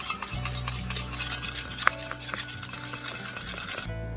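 A small spoon stirs a homemade mixture of three ingredients in a container, making quick clinking and scraping strokes up close at a low level, and the clip cuts off abruptly at the end.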